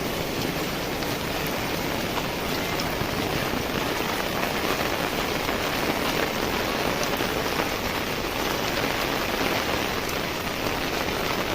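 Heavy rain pours steadily outdoors on the way to a temple, a dense, loud, unbroken hiss of drops beating on surfaces throughout, with no voices.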